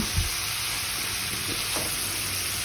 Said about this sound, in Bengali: এখন আমি মাছগুলি ঢেলে দিচ্ছি